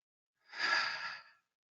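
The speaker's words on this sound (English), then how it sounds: "just take a couple of deep breaths." A single slow, soft exhale of deep breath during a calm mindfulness exercise, rising and fading over about a second amid silence, close and gentle.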